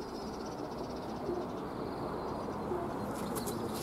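Young pigeons being readied for racing coo softly a couple of times in a loft, barely above a constant noisy background with faint chirps near the end.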